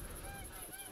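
Geese honk in theHunter: Call of the Wild while hunting in the Hirschfelden reserve, a brief burst of nasal calls layered over dense, noisy outdoor ambience.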